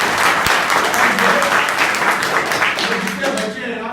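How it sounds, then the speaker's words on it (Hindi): Schoolchildren in a classroom at an inter college clap loudly together, their dense, steady applause mixed with voices talking over it. "इनके तो जोरदार ताली दो।"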